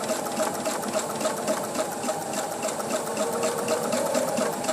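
Sewing machine stitching quilt block pieces, a steady close whirring hum with a fast rhythmic needle chatter running continuously without pause.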